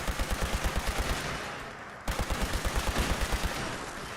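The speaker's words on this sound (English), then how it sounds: "I don't know why that gun's so loud." A loud automatic gun fires in the video game Fallout 76, a rapid, evenly spaced burst of heavy shots that continues almost without a break, with one brief cut partway through.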